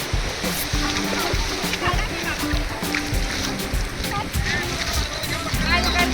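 Sea waves splash and wash onto the beach at Harihareshwar, a steady, fairly loud surf with people talking over it.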